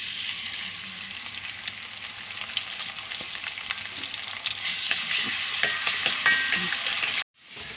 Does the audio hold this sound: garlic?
yes